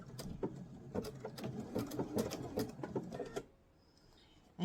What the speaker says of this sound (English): and I'm going to sew around.